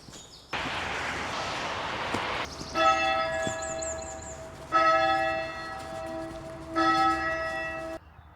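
Church bells ringing at St Mary's Church in Washington, heard on a foggy stretch of the South Downs Way. Bright, sustained tolls come in repeated swells over soft outdoor background noise, with no talking.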